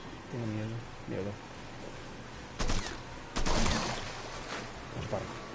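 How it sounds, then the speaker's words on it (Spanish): Two loud, sharp bursts of gunfire crack out a second apart amid other clatter in the video game Mafia 3, with a voice briefly heard before them. "Disparo."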